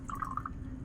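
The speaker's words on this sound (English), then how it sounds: "I'll add some water here." Water poured into a container to dissolve a salt for a chemistry solution, a brief trickling, bubbling pour up close over faint room hum.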